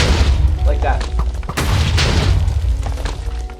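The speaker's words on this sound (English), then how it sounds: "throw an explosion that deals 100 damage, like that." An explosion thrown in a video game, dealing damage: a loud, dense burst with heavy low rumble, a sharp blast near the middle and continuous crackling debris throughout.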